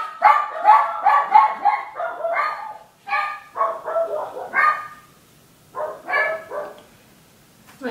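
Several dogs bark loudly indoors in rapid bursts of yips and barks, pausing briefly between volleys, with no speech.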